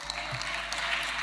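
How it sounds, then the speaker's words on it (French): Audience applause at a talk about engagements and marriage, a brief steady patter of clapping from a crowd with no break. "Applaudissons."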